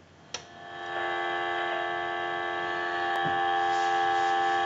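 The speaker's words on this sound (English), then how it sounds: "And we'll give you some dial tone." A steady electronic dial tone from a General Electric 6.0 Design cordless telephone hums continuously, with a single faint click near the start.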